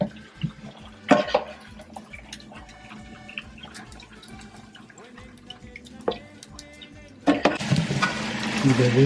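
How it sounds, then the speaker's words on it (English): Water from boiled broccoli pours and drips through a strainer in a home kitchen while making penne with sausage, with scattered drips and clinks, faint voices in between, then a loud rushing splash near the end. "I'm going to strain the broccoli first."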